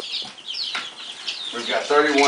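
Young chickens being raised and moved, giving clucks and chirpy peeps up close, with soft rustling and brief flapping between calls.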